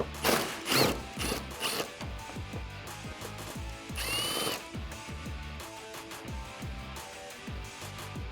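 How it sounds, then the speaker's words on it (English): A ratchet with a 10mm socket removes a headlight bolt on a 2016-2020 Tacoma, clicking in rapid close bursts, with a brief louder whirring spell midway, and no talking. "So with the 10mm socket, I'm gonna start by removing that bolt that we just exposed."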